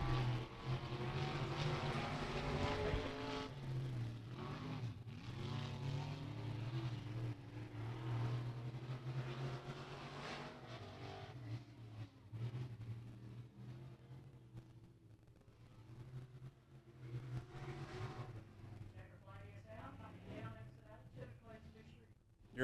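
A race car engine circles Beckley Motor Speedway during qualifying, a distant, steady drone that rises and fades as the car laps, heard under a track announcer talking throughout.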